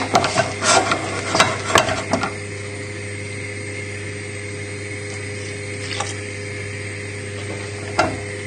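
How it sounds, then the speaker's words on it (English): A spoon stirs milk into a creamy sauce for lamb shanks, scraping in quick close bursts for about two seconds before fading to occasional soft taps over a steady low kitchen hum. "And then stir that in. There you go, you want it nice and creamy."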